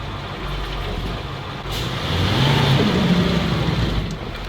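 A ZIL truck's engine drones and rises in revs as the driver hunts for a gear, a heavy low rumble that swells midway, then eases slightly with a mechanical whine.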